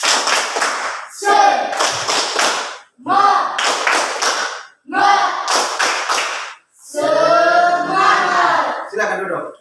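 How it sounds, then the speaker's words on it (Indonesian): Students in a classroom stand and do a rhythmic spirit clap, with sharp group hand claps in short bursts punctuated by loud shouted group chanting, repeated about five times. "tepuk semangat"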